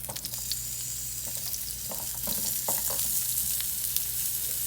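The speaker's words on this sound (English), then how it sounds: "And now I'm gonna add some onions." Onions go into hot oil in a pan after fish has been cooked in it, and a loud, even sizzle carries on throughout, with a few soft taps and stirring sounds close by.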